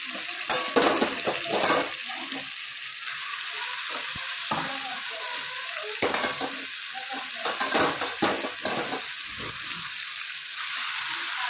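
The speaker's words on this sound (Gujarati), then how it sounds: "થોડી થોડી કરીને આપણે ભાજી નાખીશું." Leafy greens are added bit by bit to a large kadai, giving a close, loud, uneven sizzle with repeated scraping stir strokes and clattering pan knocks throughout, no talking.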